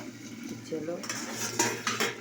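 Okra, tomato and fish are sautéed in a pan, stirred with a spatula, giving soft scraping and clinking over a low background sizzle, close and moderately quiet.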